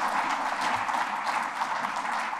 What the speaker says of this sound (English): This is, can you clap?